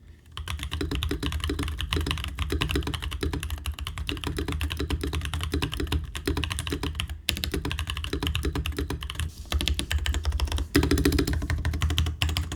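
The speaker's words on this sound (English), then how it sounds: "I decided to change out the keycaps for these drop DCX solarized keycaps and even swap the switches to the Novel Keys Bad C tactile V2s" Rapid, steady typing on a mechanical keyboard fitted with Drop DCX Solarized keycaps and NovelKeys tactile V2 switches, close and crisp with dense clacking keystrokes and a few brief pauses, no talking.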